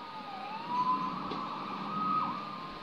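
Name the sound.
sirens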